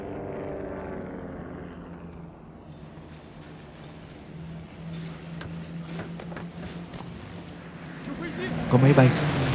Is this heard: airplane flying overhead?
yes